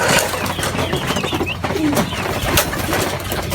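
Racing pigeons in a loft give soft cooing calls amid a busy, noisy background of fluttering and rustling, with a low engine-like hum underneath and no talking.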